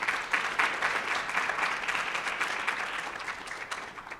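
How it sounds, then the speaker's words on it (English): Audience at a college speaking showcase applauding, dense steady clapping that holds for several seconds and slowly thins toward the end, with no talk. "let's give them all a round of applause"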